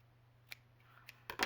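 Scissors snipping paper while trimming a ticket bellyband, a couple of quiet crisp snips followed by a louder cutting stroke at the end over a low steady hum.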